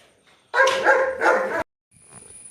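A dog near a house barks in a dense, loud burst lasting about a second, with a brief break in the middle, and then falls silent.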